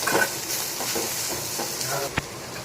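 Ivy gourd fries in a pan on a stove turned down to a simmer, giving a steady, close hiss and sizzle with faint stirring scrapes and one sharp tick.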